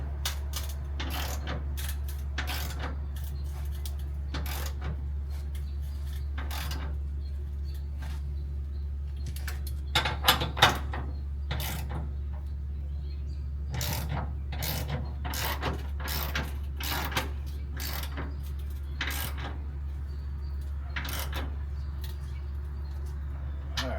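A hand ratchet clicks in short repeated bursts while torquing the bolts of a B&W flipover gooseneck hitch on a Dodge Ram 3500, with metallic clicks scattered over a steady low hum and no talking.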